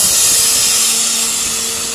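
A fire extinguisher discharges vapor during a fire safety seminar demonstration, a steady loud hiss that holds for the whole two seconds and fades only slightly.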